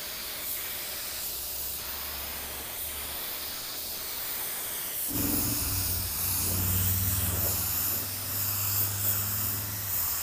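Budget paint spray gun spraying clear coat, a steady airy hiss throughout that turns louder and fuller about halfway through as the spray opens up, close and continuous with no talking.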